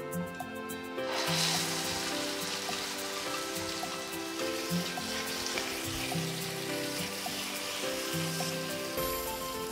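Nut paste dropped into a hot pan over a medium flame, a sudden burst of loud sizzling that settles into a continuous crackling fry, with a faint tonal hum lingering underneath.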